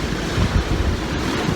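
Strong wind blusters outdoors on a very windy day, a loud, continuous buffeting roar against the microphone with no voices.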